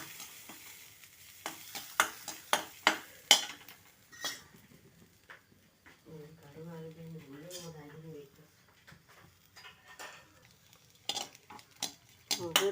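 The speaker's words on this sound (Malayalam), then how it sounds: "ഒരു ചീനച്ചട്ടി അടുപ്പത്ത് വെച്ചിട്ടുണ്ട് നമുക്കതിലേക്ക് ഒരല്പം തേങ്ങ ചെറിയ തേങ്ങ കൂടെ ചേർത്തൊന്ന് വറുത്തെടുക്കാം" Grated coconut roasting in a Chinese-style iron kadai (cheenachatti) for erissery, a ladle scraping and clinking against the pan in quick bursts over a faint sizzle, with a short stretch of humming or voice in the middle.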